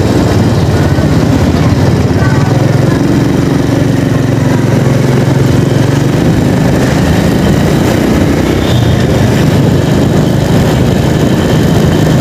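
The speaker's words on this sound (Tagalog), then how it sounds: "Ayan, andyan yung pile boring machine." A pile boring machine works at a Skyway Stage 3 and NSCR construction site, giving a steady, loud low engine drone with mechanical rumble throughout, mixed with general site noise and no clear speech.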